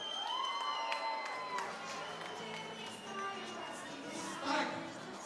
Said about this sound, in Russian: Аплодисменты девушкам!